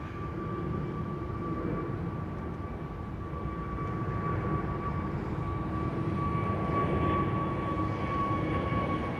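A steady, distant engine roar from an Ethiopian airliner approaching London Heathrow with flaps deployed, holding an even rumble with a faint high whine that swells slightly toward the end.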